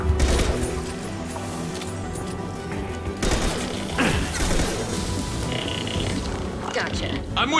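Gunfire in the sci-fi shooter Mass Effect 2 during a combat firefight: loud, continuous crackling shots and impacts mixed with game music and effects, with voices talking over the action.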